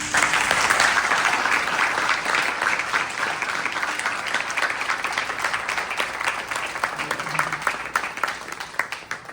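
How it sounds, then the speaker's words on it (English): An audience applauds at a Youth Yajna religious gathering at Shri Trimurti Bhavan, a dense, steady wash of many hands clapping that carries loudly throughout, with a few voices faint underneath. "he needs a bigger round of applause."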